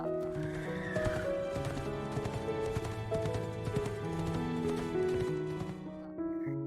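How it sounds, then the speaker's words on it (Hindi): A galloping horse sound effect in a narrated fairy tale: hoof clip-clops and a whinny over continuous melodic background music, fairly loud and unbroken. "वो घोड़े पर सवार होकर महल की तरफ रवाना हुआ।"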